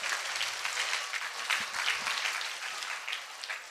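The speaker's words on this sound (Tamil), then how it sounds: "அந்த 5 அந்தோணியார்களுக்கும் நம்முடைய சிறப்பான கைதட்டுகளை கொடுப்போம்" Sustained applause from an audience after a Chenda melam dance performance at St. Xavier's in Thoothukudi, Tamil Nadu, dense and steady clapping throughout with no talk.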